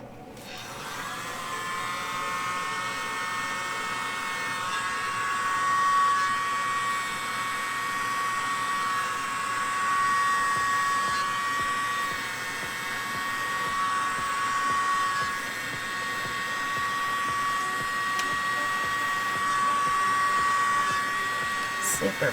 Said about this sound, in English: I'm going to use my littlest leaf blower